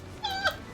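A cat gives one brief, high meow up close, rising and falling quickly against a quiet background.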